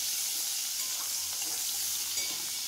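Cut drumstick stalks fry in oil in a wok, making a steady, close, even sizzling hiss that goes on without a break and with no talking.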